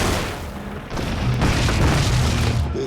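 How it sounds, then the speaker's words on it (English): Tank shells exploding during the World War II Battle of the Bulge, heard as a dense, loud rumbling roar of battle with a sharper boom partway through and no pause between blasts. "There's tanks being hit, bang, bang, bang, all over the place."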